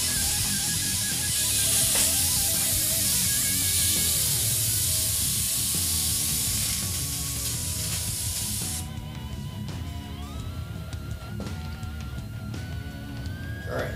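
An airbrush sprays red paint in a steady, fairly loud hiss. Partway through, the hiss thins and softens, then carries on more quietly with faint tapping and handling noises and no voices.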